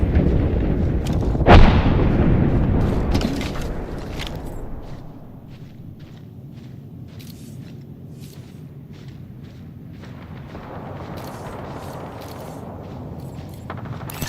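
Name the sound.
gunfire and reloading in a shooter video game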